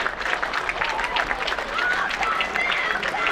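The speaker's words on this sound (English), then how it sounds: "Behind me, both sets of teams are being clapped off the pitch" Sustained applause from a crowd as both school rugby teams leave the pitch after a Champions Trophy quarter-final, Millfield School against Sedbergh School, steady clapping spread across the whole moment with faint cheering mixed in.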